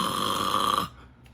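A voice imitates a cellmate's snoring with one loud, rasping nasal snore lasting under a second, then cuts off to near silence.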